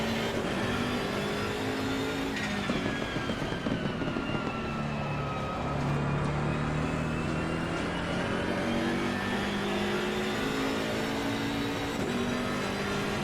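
Race car engine in the Assetto Corsa Competizione sprint race, revving steadily with gear-shift drops and rising pitch sweeps, loud and continuous with no talk.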